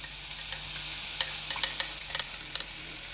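Grated beetroot poured into semolina already fried in ghee for beetroot laddu, with a steady soft sizzle and a few sharp scrapes and taps of a spoon stirring in the pan, no voices.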